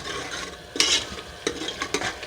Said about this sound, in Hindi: लहसुन और जो खड़ा गरम मसाला था साबित वो इसमें अच्छे तरीके से मैं फ्राई कर रही हूँ।